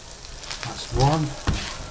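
Burgers topped with cheese fry in a pan, giving a close, soft sizzle with a couple of brief louder spits.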